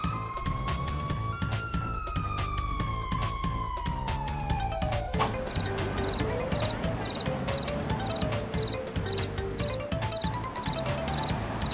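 Police car siren from the GTA video game, a steady wailing tone that sweeps slowly downward and then climbs again, loud and continuous over busy game noise and a low rumbling engine-like hum.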